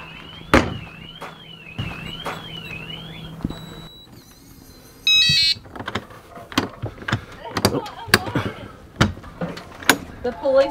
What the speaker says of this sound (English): you automatically get that alarm that'll go off